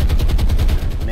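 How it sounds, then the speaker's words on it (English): A bomb hits a ship in the naval combat game War on the Sea, heard as a rapid burst of loud, rumbling impacts, close and dense for about a second. "Bomb hits."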